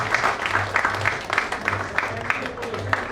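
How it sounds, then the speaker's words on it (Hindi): Dense applause from a crowd, a continuous patter of many hands clapping close by, with voices mixed faintly underneath. "आइए जोरदार तालियों के बीच आप लोगों के लिए।"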